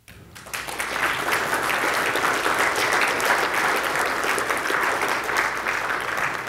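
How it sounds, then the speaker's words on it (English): An audience at a keynote breaks into loud, sustained applause that swells within a second and holds steady as a dense wash of clapping to the end. "was that worthy of a round of applause?"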